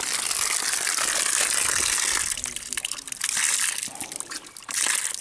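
In Jamaica, water runs to waste from a pipe, a steady, loud rushing gush that fills the whole clip, with faint voices briefly underneath.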